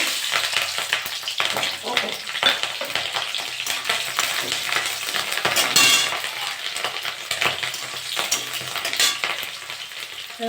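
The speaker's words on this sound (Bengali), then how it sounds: "গোটা জিরেটা ভাজা হয়ে গেছে, আমি কটা কাঁচা লঙ্কা দিয়ে দেবো" Whole cumin seeds and green chillies frying in hot oil in a pan, a steady dense sizzle and crackle with occasional sharper spits throughout, close and fairly loud with no talking.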